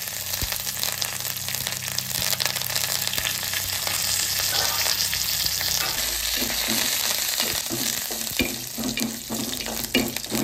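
A chutney tempering of chana dal, urad dal, mustard seeds, cumin and dried red chilies fries in hot oil, giving a steady loud sizzle with scattered pops and crackles throughout.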